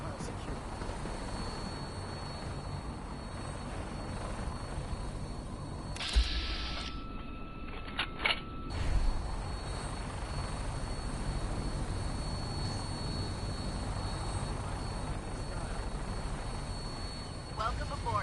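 A gunship aircraft departs in the video game Fallout 4, giving a steady mechanical rotor and engine drone that fills the whole stretch, with a brief louder burst midway and voices talking over it.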